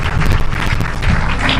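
Audience at a Nairobi celebration event in a large hall applauding steadily to welcome the President of Kenya, a dense continuous wash of clapping with cheering mixed in.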